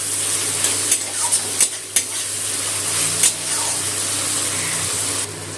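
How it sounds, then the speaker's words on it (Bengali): Ginger-garlic paste and onions frying in hot oil for a prawn and snake gourd dish, a constant close sizzle with a few sharp spatula clinks against the pan, and no voices. "আদা রসুন বাটাটা একটু তেলে নিয়ে নেবো।"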